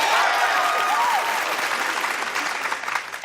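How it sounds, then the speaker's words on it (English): A studio audience bursts into loud applause and cheering for a new indoor speed world record, a dense clapping roar that holds steady before tapering slightly. "Ladies and gentlemen, your new indoor speed world record holder, Tanner Faust."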